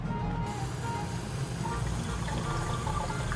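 Tap water runs in a continuous steady stream into a container in a kitchen, a close, even rushing pour that lasts throughout with no talking over it.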